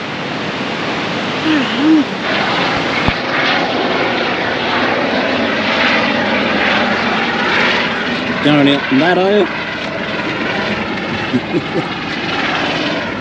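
A low helicopter drones steadily nearby at the Twelve Apostles while people talk over it and a bird chirps briefly.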